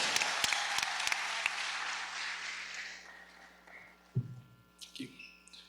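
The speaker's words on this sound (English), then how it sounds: "I would love everyone to give a warm, roaring round of applause for Miss Doreen Blue" Audience applause at a graduation ceremony, a dense wash of clapping that fills the hall for about three seconds before fading out, followed by a few faint knocks and stray sounds.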